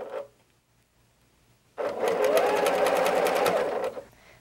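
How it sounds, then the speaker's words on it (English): A sewing machine stitches the final seam of a quilt block, starting after a near-silent pause and running steadily for about two seconds in a fast, even needle rhythm before stopping. "And now I can go ahead and sew that last seam."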